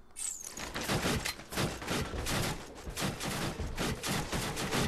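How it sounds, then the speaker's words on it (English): Dense, continuous gunfire crackles without pause in the video game Borderlands 2, rapid shots layered over each other in a steady barrage. "That that gunfire is kind of annoying"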